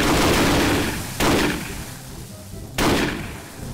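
Gunfire in the Garry's Mod game, with two sharp broadband shot bursts ringing out over a dense, continuous background of distant shooting.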